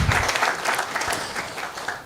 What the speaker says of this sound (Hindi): जरा ताली दो उनके लिए।